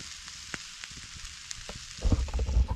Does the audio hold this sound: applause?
no